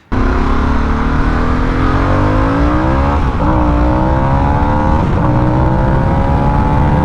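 A Harley-Davidson Sportster S motorcycle accelerates hard through its lower gears, the engine note climbing steadily and dipping at two quick shifts, loud and close throughout with no talk.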